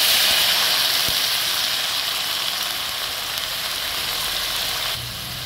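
Hot cooking oil sizzles steadily in a pan while clams (halaan) are being prepared for a broth, a continuous close frying hiss that drops slightly near the end.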